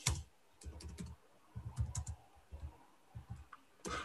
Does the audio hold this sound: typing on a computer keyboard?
yes